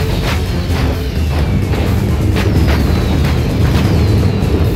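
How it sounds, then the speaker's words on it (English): Rocket launchers firing in a Medieval II: Total War battle, a dense, continuous barrage of booming blasts and sharp bursts over a constant low rumble, loud and close, with whistling streaks between the impacts and no talk. "some of them are still firing"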